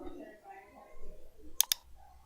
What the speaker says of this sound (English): We'll just click on the Edge browser and then it will open up.